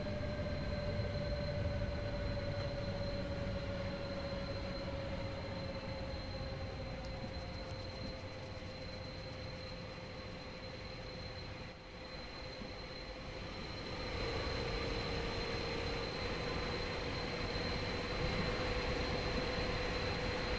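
A passenger train in Train Sim World 4 brakes with a steady rolling rumble and a sustained high squeal that slides slowly downward in pitch, continuous and fairly loud for twenty seconds with no talking.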